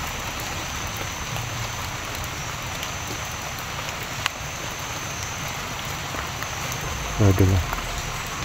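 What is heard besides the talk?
rain falling in a survival shooter video game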